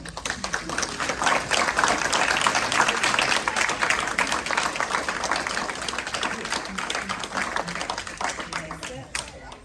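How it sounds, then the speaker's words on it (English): Graduates at a nurses' pinning ceremony receive sustained applause from the audience, a broad steady clatter of many hands at fairly close range, with faint voices mixed in and the clapping thinning toward the end. "So we can give them another round of applause"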